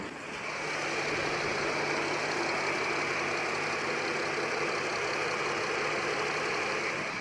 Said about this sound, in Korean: 엔진 컨디션 너무 좋은데 소리 한번 들려드리도록 할게요